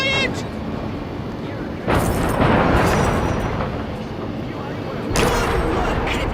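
Destroy All Humans remake: a drive-in theatre is blown apart in a sustained, loud roaring blast with rumbling debris and a second burst, heard under an alien-voiced character shouting.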